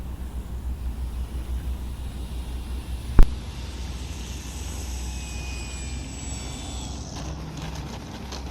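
ParkZone Albatros RC model airplane taking off, a steady electric motor and propeller drone with a rising whine, one sharp bump partway through, and the sound fading slightly as the plane moves away.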